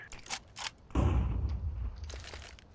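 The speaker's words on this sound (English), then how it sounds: "I'm throwing a flashbang" Flashbang grenade in Counter-Strike 2, a couple of light throw and bounce clicks, then a sharp loud burst followed by a lingering low rumble and faint ringing.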